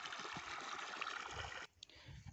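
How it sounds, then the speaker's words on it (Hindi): Irrigation water runs through a farm field, pumped by a motor, making a soft, steady rushing hiss that cuts off abruptly after under two seconds, leaving quiet low rumbles. "आप देख सकते हैं हमारे खेत में पानी चल रहा है।"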